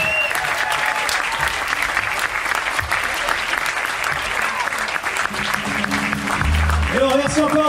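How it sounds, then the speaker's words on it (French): Steady, enthusiastic applause from a concert audience fills the room, with some talking and cheering mixed in toward the end. "Vous pouvez nous applaudir bien fort."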